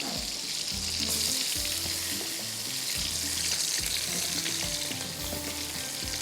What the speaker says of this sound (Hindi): आलू डालेंगे, आलू भी थोड़े से फ्राई हो।